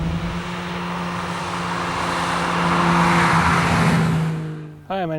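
A 1990 Toyota Supra MK3 with a boosted 2JZ engine roars loudly as it revs and pulls, the engine note rising and holding before dropping off sharply near the end.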